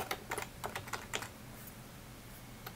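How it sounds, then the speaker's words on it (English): Several quick bursts of computer keyboard typing as a description is entered, clustered in the first second or so, then a pause before one last keystroke; close and fairly quiet, with no talking. "So first we'll just type in a description."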